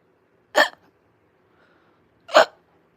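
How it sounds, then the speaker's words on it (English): Two abrupt hiccups, close and clear, spaced nearly two seconds apart with quiet between them. "that gave me the hiccups"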